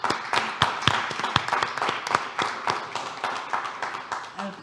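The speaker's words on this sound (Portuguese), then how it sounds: "A primeira dessas pessoas, para quem eu peço uma salva de palmas, é a Zita Carvalho." An audience claps for a speaker at a Portuguese celebration event, a mix of sharp individual hand claps and looser applause, fairly close and irregular, with occasional voices.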